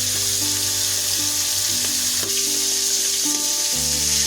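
Chopped rohu fish head frying in hot oil in a wok, a loud, continuous sizzle and crackle with no talking.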